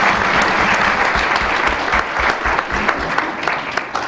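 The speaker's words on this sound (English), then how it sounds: "you give him a round of applause." Audience applause for a fifth-grade prize winner at a city council meeting, a steady, dense wash of clapping that holds loud and even for the full stretch.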